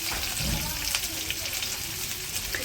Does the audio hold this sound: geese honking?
no